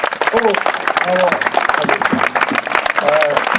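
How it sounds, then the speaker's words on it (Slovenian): Church oratory gathering in Zgornja Ložnica, 2011, applauding a missionary priest, Father Miha: a crowd claps loudly and continuously while voices talk over and through the clapping. "Pa najprej en aplavz za patra Miha"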